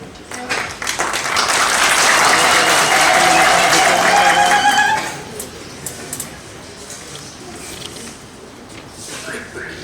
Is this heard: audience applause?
yes